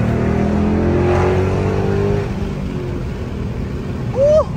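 Engine of a Dodge SRT 392 V8 with 64,000 miles, a loud near rumble that holds steady, then eases back, ending with a short sharp rev blip near the end.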